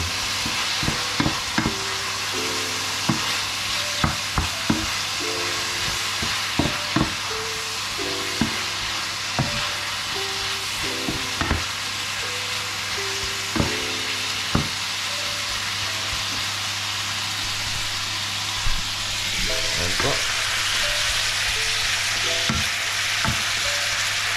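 Food frying in a pan with a steady hiss while a utensil stirs and mixes, knocking and scraping at irregular moments; a low constant hum sits underneath throughout, with no voices.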